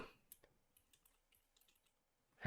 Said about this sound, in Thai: ให้เราพิมพ์คำว่า digital ไรนะครับ